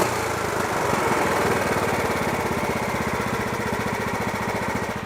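A lawn mower engine with a freshly cleaned and rebuilt carburetor idles steadily, a loud close chugging putter with rapid even firing pulses throughout, no fuel leaking.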